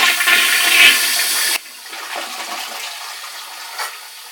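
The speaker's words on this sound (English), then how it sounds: "Well, I'm going to flush this toilet down here." A household toilet being flushed: a loud, close rush of water that cuts off suddenly, followed by quieter gurgling and trickling as the tank refills.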